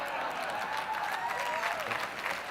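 Conference audience applauding steadily at a political summit, a dense even wash of clapping filling the hall with a faint voice underneath.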